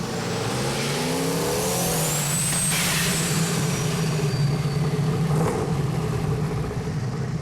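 Ford 460 V8 in a car on a chassis dyno during a mild first-gear pull, a loud continuous engine roar rising steadily in pitch as it revs, close and without talk.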